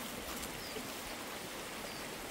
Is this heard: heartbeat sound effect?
no